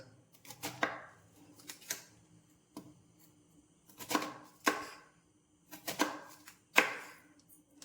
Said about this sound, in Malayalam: ഇത് ഇത്രയും ഞാനൊന്ന് കട്ട് ചെയ്ത് കാണിക്കാമേ